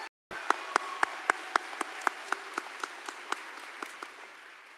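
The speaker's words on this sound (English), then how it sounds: "Another round of applause for Congresswoman Kelly." A room full of people applauds steadily at a graduation ceremony, a dense wash of clapping with a few sharp, distinct claps standing out at a regular rhythm, continuing without a break.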